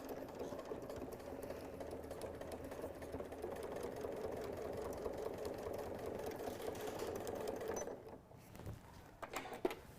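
A sewing machine hums steadily and quietly for about eight seconds while sewing on a strip of Velcro with a back stitch, then stops, leaving soft handling clicks and rustles.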